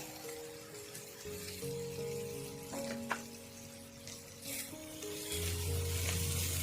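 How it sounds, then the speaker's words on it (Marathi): Chopped onion and green chillies sauté in melted butter in a pan, giving a steady, close frying sizzle with soft stirring scrapes that grows louder and fuller toward the end. "मऊ होईपर्यंत कांदा परतून घेऊया"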